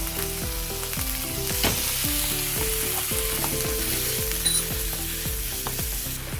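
Meat sizzling and frying in a pan for a tomato-based chicken menudo, a steady loud crackle up close with scattered pops and no talking.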